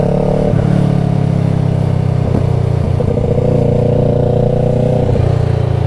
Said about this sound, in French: C'est le bruit du moteur. Oh là là là là là là. Quand ça pétarade comme ça.